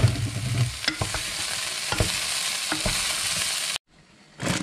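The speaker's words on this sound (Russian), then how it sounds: "И обжариваю вместе с лучком." Broccoli florets and onion sizzle steadily in a hot pot, with a few scraping stirs breaking through the crackle before the sound briefly drops away.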